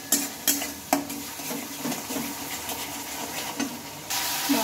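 Ground spice paste of poppy seed and coriander being sautéed in a pan, soft sizzling under repeated scraping and clinks of a spatula against the pan at an uneven rhythm.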